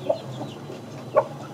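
Blorok chickens in a backyard flock give two short, separate clucks, one at the start and one near the end, quiet against a faint steady background hum.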